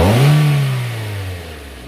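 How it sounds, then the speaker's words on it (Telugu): A 2014 Toyota Corolla Altis GL petrol engine revs briefly and loudly, its pitch climbing then falling as the throttle is released, heard up close with no talk. "కొద్దిగా యాక్సిలేటర్ ఇవ్వమా సారి,"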